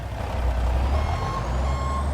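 A pickup truck in a farming video game sounds its steady reversing beeps over a loud, constant low engine rumble, close and without any talking.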